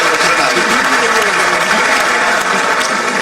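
Audience at a youth and student gathering in Bhopal breaking into loud, sustained applause for a farmer's daughter, a dense steady clatter of many hands lasting throughout.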